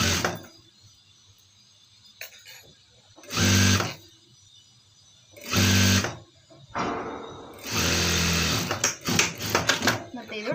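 A sewing machine stitches a chudidar in several short runs of a few seconds each, separated by quieter pauses with small handling noises, the motor whirring loud and close.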